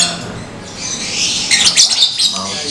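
A male lovebird chirps in a quick run of bright, high tweets that grow busier and louder toward the middle, close by, with no talk over it.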